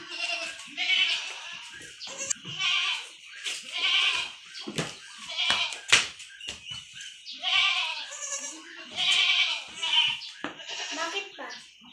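Young goat bleating repeatedly while being handled for an iron injection into its thigh, loud and close, with other kid goats bleating around and a voice talking over the calls.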